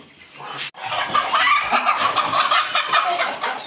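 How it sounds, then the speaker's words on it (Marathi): A pure desi village hen clucks in quick, close, fairly loud bursts after a short quiet pause, with other farm clatter around. "ही बघा, प्युअर गावठी कोंबडी आहे"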